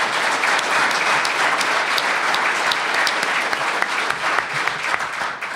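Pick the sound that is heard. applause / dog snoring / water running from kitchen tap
applause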